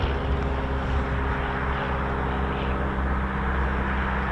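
Eurofighter Typhoon FGR4 jet departing, a loud, steady roar with a deep droning hum that holds constant throughout.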